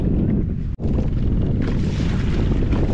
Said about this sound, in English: God, it's really windy.